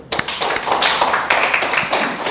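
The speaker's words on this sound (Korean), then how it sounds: "하나님께 영광의 박수를." Congregation in a church service breaks into loud, sustained applause, dense clapping from many hands filling the hall close and strong without talk.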